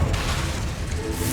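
A booming blast from the Confringo spell in Hogwarts Legacy, dense and rumbling, that fills the whole short clip at steady loudness.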